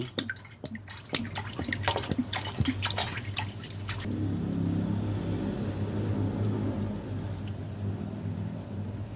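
A whole bottle of cola syrup is poured into a container for homemade cola wine. Scattered drips and splashes come first, then a steady, close liquid stream flows continuously.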